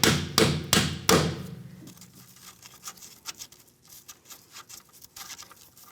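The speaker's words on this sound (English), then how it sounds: "I just put the nut back on a little bit, and I'm just going to tap it out." A hammer taps a threaded strut bolt out of the front strut and spring assembly on a 2001-2007 Volvo V70 XC, with the nut threaded partly back on. Four loud, close metallic knocks come in quick succession, then quieter faint clicks and rattles follow.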